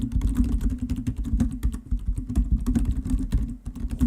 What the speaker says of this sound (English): why are you typing so loud?